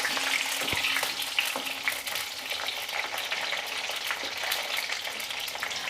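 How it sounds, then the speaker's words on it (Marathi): Eggplant fries in a pan with cumin and mustard seeds, a steady close sizzle with occasional crackles and pops. "यामध्ये आता हे वांगे घालूयात आणि याला व्यवस्थित असं परतून घ्यायचं आहे"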